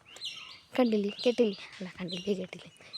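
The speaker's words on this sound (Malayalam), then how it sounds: "പിന്നെ കിളികളുടെ ശബ്ദം" Forest birds chirp and tweet in quick clustered bursts, fairly close and clear, with brief high calls between longer warbling phrases; a quiet voice talks nearby.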